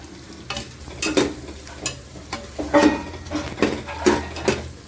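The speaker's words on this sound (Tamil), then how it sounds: "பச்சை மிளகா கொட்டி திரும்பி பார்த்தோன்னா நல்லா பெரட்டி எடுக்கணும்" Onions and green chillies fry in a pan for beef biryani while a spoon stirs them, giving repeated scraping strokes over a steady, close sizzle with no talking.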